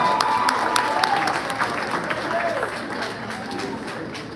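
Diners at a school sports awards dinner give an absent award recipient a round of applause, with steady crowd clapping, scattered cheers and voices mixed in, tapering off toward the end.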